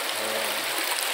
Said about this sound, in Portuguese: Olha aqui, água corrente, barrenta.